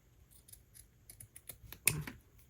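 Scissors snip through craft material at a bead-crafting table, a few faint, quick clicks followed by one sharper, louder cut near the end, close up and without talk.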